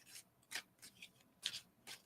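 A deck of playing cards is shuffled by hand at close range, with quiet riffling bursts coming in an uneven rhythm and no speech.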